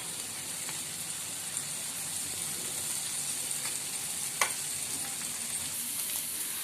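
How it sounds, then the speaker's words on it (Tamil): Paneer cubes lightly roasting in a pan give a steady, soft sizzle of frying, with a few faint clicks and stirs, alone and with no voices. "அந்த பன்னீர் வந்து இந்த பொல பொலன்ட்டு ஆகாம இருக்கிறதுக்காக தான் நான் வந்து லைட்டா ரோஸ்ட் பண்றேன்."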